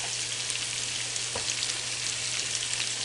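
Lobster searing in garlic butter in a hot pan while being basted with a spoon, a dense, loud, continuous sizzle held close, with a faint low hum and one soft spoon scrape partway through.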